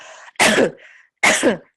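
Two sharp, close coughs separated by a short pause, each a harsh burst with a raspy throat-clearing quality.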